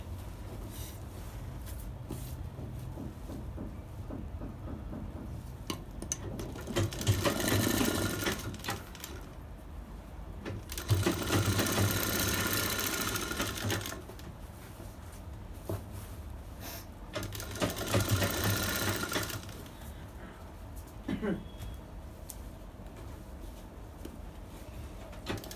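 A sewing machine stitches a bridal sharara, its rapid mechanical whir rising in three louder runs over a steady motor hum, close by with no talking.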